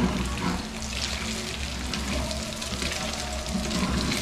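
Cooking oil sizzling and popping in a pan while meat cooks for Bicol Express, a dense continuous hiss with scattered small pops, close and fairly loud.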